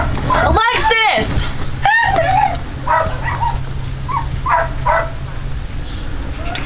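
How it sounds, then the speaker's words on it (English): A dog barks in short yapping bursts close by, mixed with excited voices of people talking over it during a lively indoor game. "Oh, Molly's barking!"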